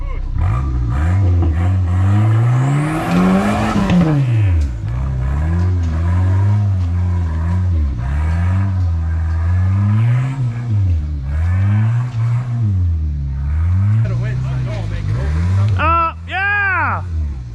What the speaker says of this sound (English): Now we gotta hear that turbo.